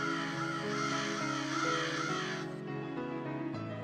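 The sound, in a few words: crows cawing in a cartoon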